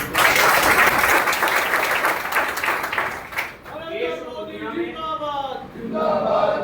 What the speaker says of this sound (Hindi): अगर ये बात सत्य है तो ताली बजा के